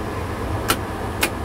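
A Class 66 diesel locomotive engine idles at about 200 rpm, giving a steady, even low rumble throughout with two brief sharp clicks over it.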